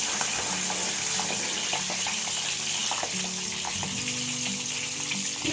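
Garlic sizzles and crackles steadily in a hot frying pan, with occasional stirring scrapes, continuous and close, with no talking.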